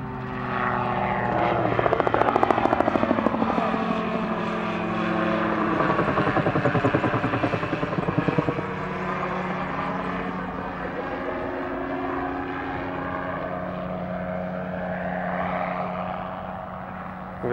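An autogyro gyroplane takes off on a hill, its propeller engine droning loud and steady for the whole stretch, with a rising then easing pitch as it passes close and climbs away.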